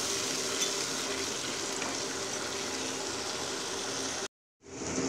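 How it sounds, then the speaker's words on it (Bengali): Spice masala with yogurt cooking in a pan, giving a dense and even sizzle that holds steady for about four seconds and then cuts out briefly before it returns; no one speaks. "আস্তে আস্তে নাড় কষিয়ে নেব, যাতে দইটা না ফেটে যেতে পারে।"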